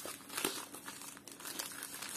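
Plastic package from an AliExpress delivery crinkles as it is handled and opened, a close, continuous crackling and rustling with irregular louder crunches and no talk.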